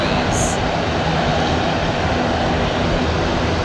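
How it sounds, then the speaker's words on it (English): Turboprop engines on a firefighting tanker plane run at close range, a loud, dense, unbroken roar with a rough low throb. A brief hiss rises over it near the start. "with the turboprop engines like these, the front end is a lot noisier than the back"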